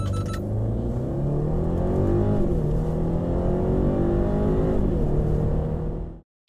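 A 2021 BMW 530i xDrive accelerating hard from inside the cabin, loud steady engine drone rising in pitch through a couple of upshifts before cutting off abruptly.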